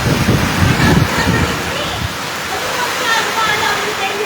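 Heavy rushing water roars as a constant loud wash during a storm with heavy rain and strong wind in Muzon, Taytay, with voices talking over it at the start.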